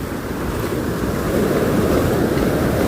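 Steady roar of ocean surf with wind buffeting the microphone, continuous and loud, no voices.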